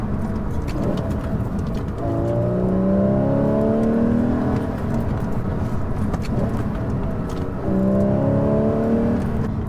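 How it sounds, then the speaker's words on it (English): A car engine revs during a double-clutch heel-toe downshift into second gear, with two distinct rising rev sweeps over a continuous engine and road drone, heard from inside the car. "Double clutch heel toe into second."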